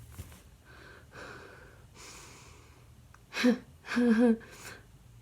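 A voice imitates heavy, dramatic breathing, with a few soft, airy breaths followed by two louder, gasping, voiced inhales close to the microphone in a quiet room.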